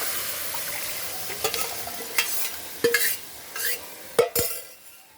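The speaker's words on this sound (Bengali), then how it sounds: "এখন ঢেলে দেবো ডালটা।" Lentils for sambar dal are poured into a hot pan of spices and jaggery, bringing a soft background sizzle broken by several sharp spoon-against-pan clatters and stirring knocks, with no speech.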